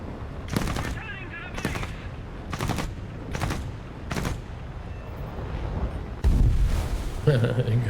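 Machine gun fire in a flight combat video game, arriving as five short, loud bursts in a steady rhythm, followed by a denser roar of fire and rumble.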